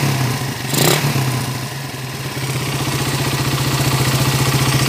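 A Suzuki Raider 150 motorcycle engine revs up close, its throttle blipped and then settling into a steady, throbbing idle-like pulse, loud with no talk.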